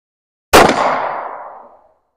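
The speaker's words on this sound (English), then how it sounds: "we're gonna go with the 38 special out of a Taurus revolver." A single loud, close shot from a .38 Special Taurus revolver at an outdoor range, with a sharp crack and a long echoing decay that fades over about a second.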